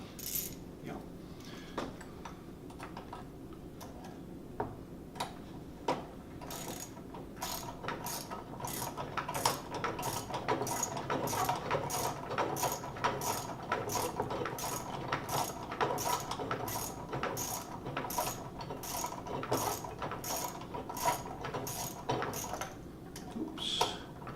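A hand ratchet clicks in quick, even bursts while tightening a screw on a Chapin spreader under assembly, crisp close ticking repeated many times, with a person speaking quietly at times.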